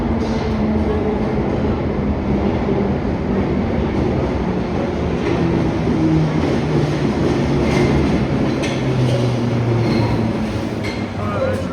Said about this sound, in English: we're just going to wait for the next train that'll take us to Waterloo